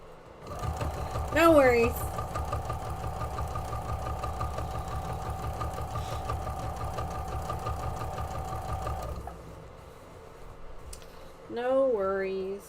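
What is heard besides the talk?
sewing machine stitching a table runner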